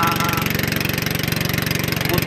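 A boat motor runs at a steady idle, with a close, even chugging pulse throughout.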